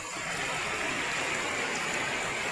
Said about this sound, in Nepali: यहाँ चाहिँ यत्रो ठुलो पानी परिरहेको छ।